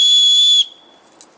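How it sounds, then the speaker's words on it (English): A single loud, shrill blast from a paracord survival bracelet whistle held for about half a second, then cut off, leaving a faint fading tone. "you got the whistle for signaling"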